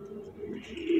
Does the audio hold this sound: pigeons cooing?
yes